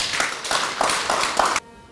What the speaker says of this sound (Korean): 다시 한번 박수를 보냅니다.